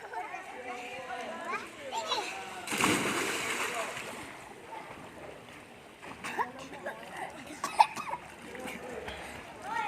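A swimmer splashes in water outdoors while children talk and call nearby; one loud burst of splashing stands out near the middle, with lighter splashes and chatter around it.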